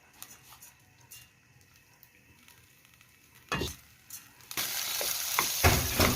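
Rice being sautéed in hot oil in a pan, quiet at first with a few stirring taps, then a loud sustained sizzle erupts as the grains hit the oil, with scraping stirs underneath.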